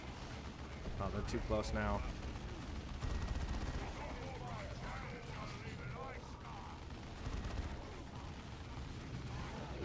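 Artillery barrage and gunfire from the video game Dawn of War 2, with dense booming blasts and crackling shots running throughout, loudest early on, under a voice speaking briefly.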